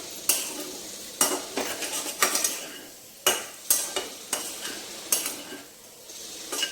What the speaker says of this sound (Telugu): కారం వేసాం కదా, కొంచెం వేగాలి.